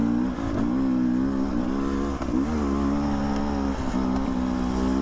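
Beta 300 RR two-stroke dirt bike ridden at a quick pace along a trail, its engine droning steadily close by with slight rises and dips in pitch as the throttle changes, no voices over it.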